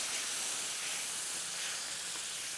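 Cabernet red wine hits a hot pan after searing steak and deglazes it with a continuous airy hiss, steady and fairly close, with no voices over it.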